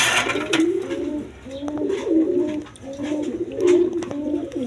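Pigeons in a Bengali pigeon seller's loft coo in repeated rolling phrases, roughly four cycles at a steady rhythm. The cooing is close and clear over a faint background.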